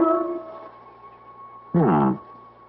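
A dog in a 1975 radio mystery drama gives a brief rising howl near the end, loud and alone, after a quieter whining tone at the start.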